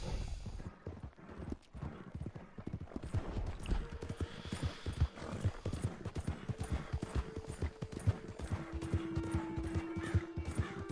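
A horse gallops in the video game Red Dead Online, with rapid rhythmic hoofbeats close up and a brief whinny. A faint voice sounds briefly under them.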